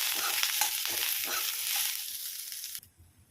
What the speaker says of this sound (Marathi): हा चांगला भाजून घेऊया ब्राऊन होईपर्यंत.